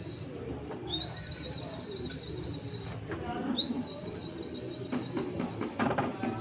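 Racing pigeons gather on a rooftop, with soft coos and chirps heard faintly among long high whistling tones and light background noise.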